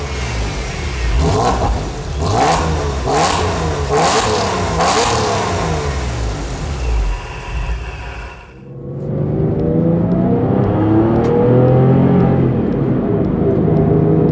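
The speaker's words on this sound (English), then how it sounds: "a modified Porsche making 400 horsepower with a supercharger and stainless exhaust." Loud modified Porsche 996 with a supercharger, 400 horsepower and stainless exhaust revving hard through several rising bursts, then a steady droning run with a deep exhaust rumble and supercharger whine.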